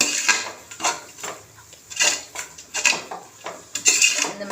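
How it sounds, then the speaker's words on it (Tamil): A spoon scrapes and clanks rhythmically against a pot while a mutton biryani mixture with yogurt is stirred, repeated close metallic strokes with short pauses. "இந்த மாதிரி நல்லா கிண்டிக்கோங்க."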